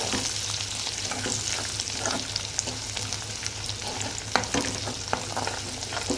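Coriander and mint leaves fry in hot oil as a tempering for a curry, a loud steady sizzle with occasional stirring clicks, close and without talk.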